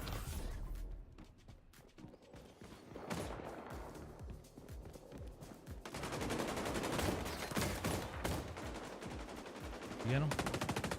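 Gunfire in the shooter game XDefiant: bursts of rapid automatic fire and sharp single shots, loud and dense, alongside other game sounds, with a player's voice talking over parts of it.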